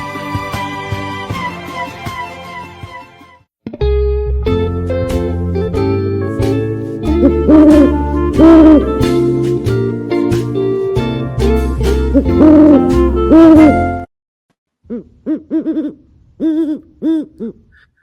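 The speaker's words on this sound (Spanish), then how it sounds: "me acompaña el búho sabio" An owl hooting plays as a sound effect in a church-themed sketch, a few repeated hoots sounding clearly over and after a loud music passage that cuts off near the end.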